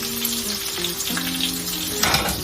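Bacon grease in a hot pan gives off a steady, close sizzle and crackle with a brighter hiss flaring near the end, under a faint tonal hum, with no talking.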